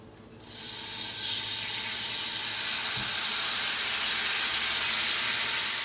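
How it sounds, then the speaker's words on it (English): Coconut milk poured into caramelized brown sugar in a hot pan erupts into a loud, sustained sizzling hiss that starts abruptly and holds steady, broad and bright, with no talking. "I'm now going to add 150 milliliters of coconut milk to make the coconut sauce."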